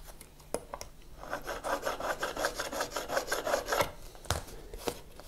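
Lacquer is scraped off a guitar during the restoration of a Blackguard Esquire, making a close, rhythmic rasping: a dozen or so quick strokes in a steady run, with a few sharp clicks and taps at either end.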